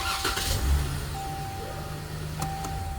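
A car with an intermittent no-crank, no-start fault turns over and catches in a repair shop, a brief crank, then the engine firing and idling, loud and close with no talk.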